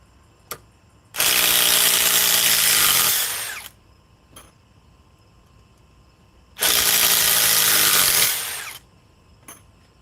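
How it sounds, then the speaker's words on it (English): A cordless impact driver hammers hard under heavy load in two loud bursts of about two and a half seconds each, with quieter pauses and faint clicks between them. "it's the torture test for this impact driver"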